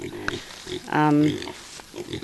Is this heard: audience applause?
no